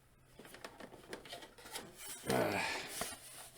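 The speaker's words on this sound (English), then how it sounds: "You can move the turrets on the wings around too. Of course, they make a little ratcheting sound." Small plastic wing turrets on a Hasbro Star Wars Clone Wars Crumb Bomber gunship toy are turned by hand, making a series of quick rasping clicks that build to a denser scraping burst near the end, close and fairly quiet.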